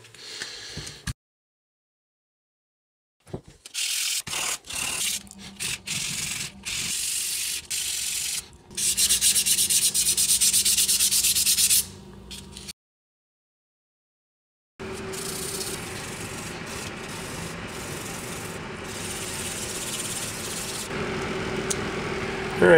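Horn coral is sanded by hand with 220-grit sandpaper, giving close, steady, abrasive rubbing strokes in long stretches with a couple of silent pauses between them.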